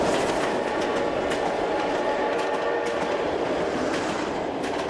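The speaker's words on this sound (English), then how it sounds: "But when Russians migrated, they took the train." A train running on rails through the Trans-Siberian Railway era, with a steady, continuous rumble and rattle of wagons and a faint rhythmic clickety-clack throughout, with no voices.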